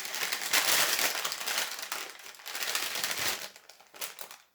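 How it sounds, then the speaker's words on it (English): Close, continuous rustling and crinkling, like paper or wrapping being handled, rises and falls in loudness for several seconds with no voices. "I'm going to make a little rustling sound here."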